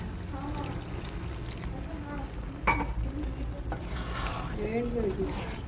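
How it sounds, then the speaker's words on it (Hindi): Water poured into a pan of qeema with capsicum, peas and potato, a soft trickle and sizzle running steadily under continuous nearby talk, with one brief metallic clink midway. "अब थोड़ा सा पानी शामिल करेंगे ताकि शिमला मिर्च भी गल जाए।"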